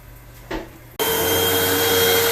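A vacuum cleaner switches on after a brief quiet moment and runs loud and steady while cleaning a wool carpet during post-renovation cleanup.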